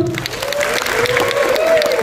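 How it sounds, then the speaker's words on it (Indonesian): A crowd at a film gala premiere claps steadily and continuously, a dense wash of applause with a voice faintly audible underneath. "Tepuk tangan dulu"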